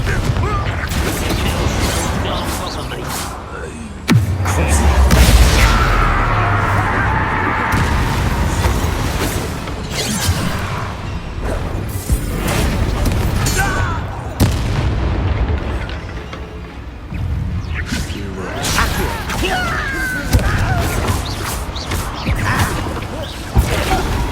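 Confringo spells explode in the video game Hogwarts Legacy, a series of loud booming blasts and sharp bursts amid clattering combat effects, with in-game voices talking between the hits.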